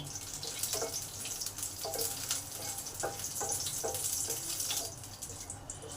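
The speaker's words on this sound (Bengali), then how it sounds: "জিরেটাকে ভালো করে ভেজে নেবো তার সঙ্গে দুটো গোটা লঙ্কা দিলাম এগুলোকে ভালো করে ভেজে নেব" Cumin seeds and two whole dried red chillies fry in hot oil in a home kitchen, giving a steady close sizzle with scattered small pops and crackles throughout.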